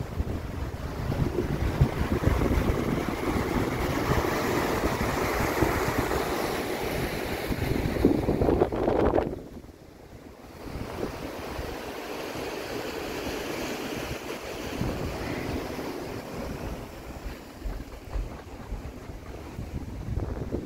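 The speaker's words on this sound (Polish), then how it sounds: "I tak sobie żeglujemy." A Sunreef 80 sailing catamaran under gennaker and mainsail crosses the Atlantic with a continuous rush of wind buffeting the microphone and waves surging along the hull, briefly dipping quieter midway.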